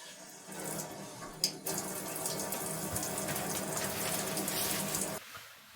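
Water running steadily from a makeshift camper van shower, a continuous hissing spray lasting several seconds at moderate level before cutting off near the end.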